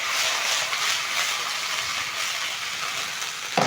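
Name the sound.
beef chunks frying with onions in a pot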